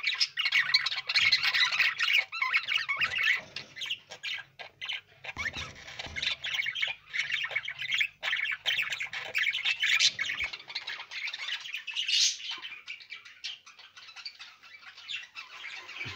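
Pet birds in a cage squawk loudly and repeatedly at close range, harsh raspy calls overlapping almost continuously, with occasional flutters and rustles.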